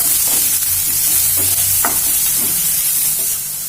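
Spices like turmeric, red chilli and black pepper powder mixed into a Maggi cutlet mixture in a hot pan, a continuous loud hiss of frying with a few soft spoon strokes scraping through it.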